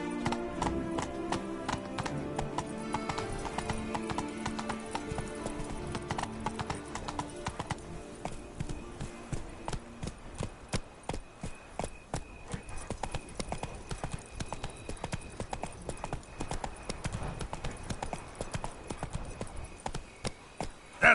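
Hooves of a horse galloping in The Witcher 3 drum out a fast, steady clip-clop rhythm throughout. The sound is close and even. Music sits beneath it early on, and a voice speaks briefly.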